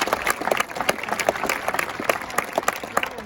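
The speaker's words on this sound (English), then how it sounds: "a round of applause for us" An audience claps steadily and densely at a high school ceremony after a student performance, the applause sustained and fairly loud throughout with a faint crowd murmur.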